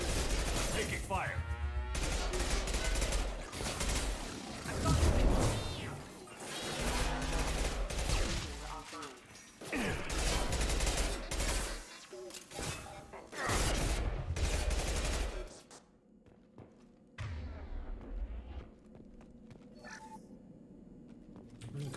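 Gunfire in Mass Effect 2, with dense bursts of shots and impacts layered over game music and voices, loud and busy for most of the stretch before dropping to a quieter tail.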